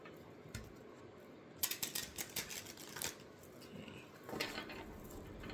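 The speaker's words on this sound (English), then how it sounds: "I'm just doing a little extra shuffle" Oracle message cards are shuffled by hand, producing a quiet, close flurry of soft papery riffling and light taps in uneven bursts, with no speech.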